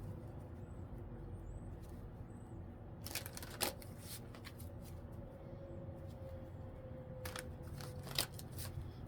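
A deck of tarot cards is shuffled quietly, giving brief riffling bursts around the middle and near the end over a low, steady background hum.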